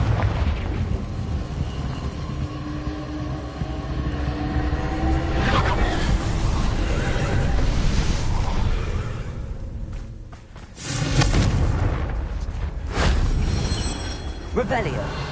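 Fiery spell blasts in the Hogwarts Legacy video game, dense booming bursts layered over a steady rumbling wash, with a sharp loud impact near the end; a voice speaks over the action.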